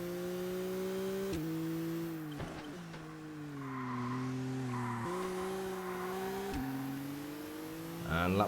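Turbocharged race car in ToCA Race Driver 2 with its wastegate chattering off throttle, a steady engine drone with harmonic tones dropping and rising between gearshifts, close and loud, no talking.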